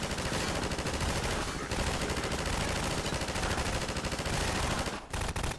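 Rapid automatic gunfire from emplacements in a video game, a dense continuous rattle of machine-gun bursts that fills the whole stretch, briefly dipping near the end before resuming loudly.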